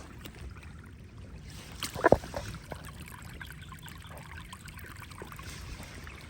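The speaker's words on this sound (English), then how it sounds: "Still really running. You hear it? Sounds like a creek almost." Rainwater runoff runs through a flooded yard after a Kentucky storm like a small creek, a steady low wash with a brief louder splash partway through.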